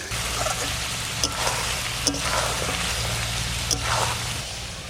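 Mutton masala for Bengali pathar mangsho sautés in a pan, giving a steady, close hissing sizzle with a few soft clicks and a low background hum throughout.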